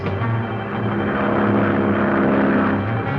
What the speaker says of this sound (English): Nagel ambulance plane coming in on the beam.